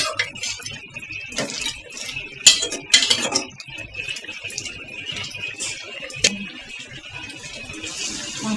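Beef is stirred in a metal cooking pot, with a few sharp clinks and scrapes of a utensil against the pot between quieter stretches of faint kitchen noise, close by.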